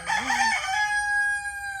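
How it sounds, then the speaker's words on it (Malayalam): A rooster crows nearby at a home in Kerala, one full cock-a-doodle-doo that rises and then holds a long steady note, loud and clear with no talking. "കണ്ടോ ഇപ്പൊ കൂവിയില് ഇവനാണ് നമ്മുടെ സ്വന്തം കൂവി"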